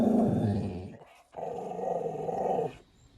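A husky-type pet dog gives low, drawn-out growling vocalizations close by, in two sustained stretches split by a brief pause.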